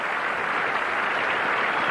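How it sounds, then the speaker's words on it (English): Stadium crowd applauding a player leaving the field at a Miami Hurricanes vs Arkansas Razorbacks football game, a steady wash of distant clapping and crowd noise with no break. "Rusty up and getting a nice round of applause here"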